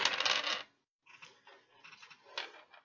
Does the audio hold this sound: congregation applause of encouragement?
no